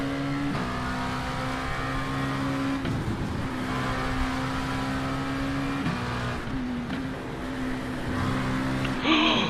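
A Porsche race car engine in the iRacing sim, during an IMSA series race, drones loud and steady at high revs, with brief dips and rises as gears shift, then a sharp burst near the end.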